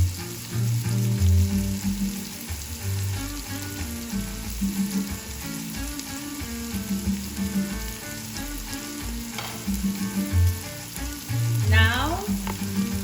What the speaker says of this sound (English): after letting it saute for 3 to 5 minutes